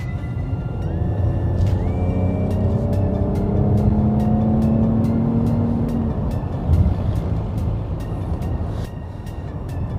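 A Mercedes-AMG GLE53 4MATIC+ SUV accelerates in comfort mode, with a steady engine drone rising in pitch inside the cabin, alongside tyre and road noise and faint ticking sounds. No one speaks.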